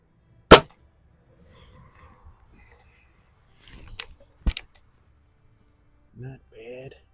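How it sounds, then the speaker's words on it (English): A vintage Remington Vantage 1200 .177 break-barrel air rifle by Crosman fires at an outdoor range, giving one sharp, quiet crack, followed later by a pair of fainter clicks. A voice speaks briefly near the end. "Really quiet shot cycle on this guy now."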